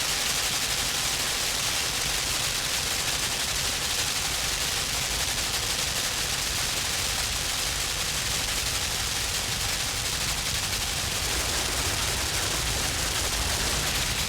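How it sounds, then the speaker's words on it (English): Continuous gunfire in the video game Limbo: a dense, unbroken hiss of rapid shots fills the whole stretch at steady loudness, with no pauses and no talking. "as long as you stay within the gunfire, I think you're fine"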